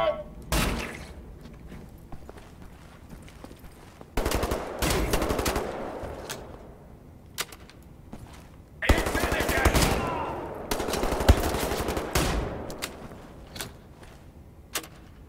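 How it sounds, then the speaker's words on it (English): A shotgun fires in Wolfenstein: The New Order, in several separate bursts of sharp blasts with ringing tails, spaced by quieter game ambience. "Certainly a nice shotgun, though."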